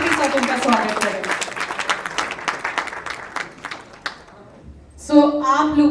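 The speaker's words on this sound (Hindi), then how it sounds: "आपसे रिक्वेस्ट करूंगी कि जोरदार तालियों और प्यार के साथ उनका स्वागत करें।" A crowd applauds loudly to welcome performers onto the stage at a film poster launch event, dense clapping for about four seconds that fades, then a voice speaks over the quiet.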